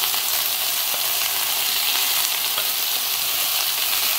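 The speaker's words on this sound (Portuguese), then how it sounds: "Agora eu vou jogar o meu frango, que vai selar. A panela tá bem quentinha." Chicken pieces sear in a very hot pan for a baked stroganoff, giving a loud, continuous close-up sizzle and crackle with brief spits and no talking.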